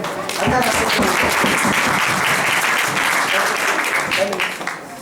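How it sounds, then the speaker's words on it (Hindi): An audience at a youth conference at Central University of Gujarat applauds loudly, dense clapping filling the room for several seconds before tapering at the end, with some voices mixed in. "जोरदार से ताली बजाओ"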